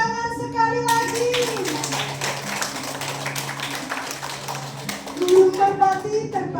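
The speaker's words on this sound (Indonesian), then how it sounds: "jangan ragu untuk tepuk tangan sekali lagi." An audience claps at a stage performance, a busy patter of hands running through the middle while voices and tonal music sound over and around it.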